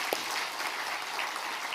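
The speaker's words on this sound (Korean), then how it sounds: "우리 하나님께 한번 영광의 박수" A church congregation applauds during a Sunday morning worship service, steady dense clapping from many hands filling the room at moderate volume.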